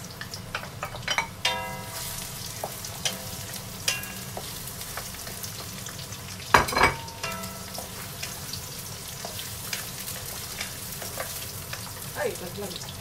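Mushrooms frying in a pan for a spaghetti dish, a steady close sizzle with scattered pops and crackles, one louder burst of spattering midway and faint stirring throughout.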